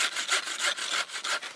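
A hand saw cuts through dry hardwood driftwood at a winter campsite, a close, loud rasping rhythm of about six quick back-and-forth strokes with no talking.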